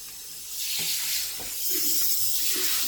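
Water spraying onto bathroom shower tile for a rinse, a steady close hiss that swells and holds throughout, with faint splashing and no talk.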